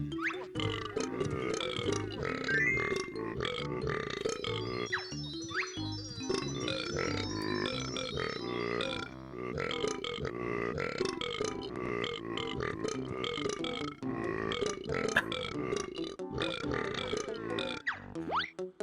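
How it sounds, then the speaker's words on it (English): Repeated cartoonish burps from characters in the Banjo-Tooie video game, Jolly Roger's Lagoon area, a dense run of belches mixed with game music and effects throughout. "There's so many burps in that one, like, holy cow."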